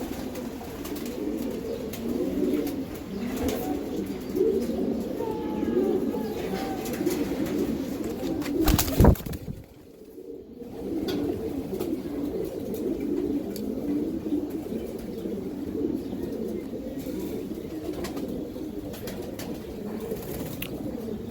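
English tippler high-flyer pigeons coo in a steady overlapping chorus nearby, broken midway by a loud sharp clatter and a brief lull before the cooing resumes.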